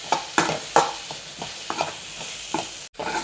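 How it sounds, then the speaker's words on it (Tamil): Okra sautéing in a pan over a soft background sizzle, with a spatula scraping and stirring in repeated short strokes spaced about every half second. "இந்த ஸ்டேஜில் நம்ம வெண்டைக்காயை அதில் போட்டு வதக்கிடலாம்."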